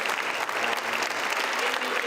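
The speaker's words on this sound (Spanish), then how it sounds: "Un aplauso." An indoor audience at a talk on Indigenous peoples in big cities breaks into steady, dense applause, continuous clapping sustained at an even level throughout.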